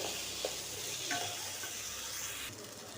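Vegetables being stirred in a hot pan with a little sugar, soft sizzling with a few scraping stirs, quiet and close.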